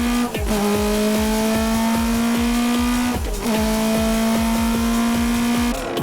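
A Toyota AE86 Hachi-Roku TRD race car on a time attack lap at Tsukuba in a 2004 N2 race: a loud, close engine revving high, with a brief drop in pitch at each gear change, twice over.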